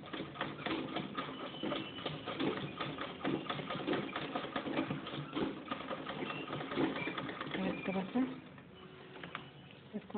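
A sewing machine stitches a blouse in fast, rattling bursts, fairly faint and steady, with someone speaking over it and the machine pausing near the end.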